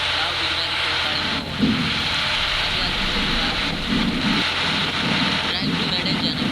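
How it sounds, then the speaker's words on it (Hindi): Heavy rain falls hard and steady as a dense, loud hiss across the whole stretch, with a few low rumbles mixed in. "कितना वर्षा चालू है देखो"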